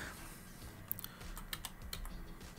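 Typing on a computer keyboard, a steady run of close, light key clicks with a few sharper taps, carrying on with no voices over it.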